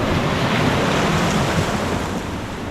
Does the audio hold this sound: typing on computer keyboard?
no